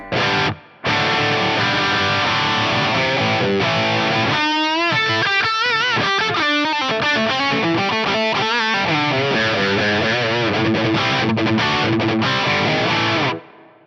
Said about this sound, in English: go to the reverb EQ, and turn the low cut on the reverb, say up past about 200 Hertz